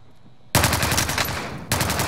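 Rapid automatic gunfire in the video game Call of Duty: Modern Warfare, a loud continuous burst that starts abruptly after a quiet moment, pauses very briefly and then resumes; no voices are heard over it.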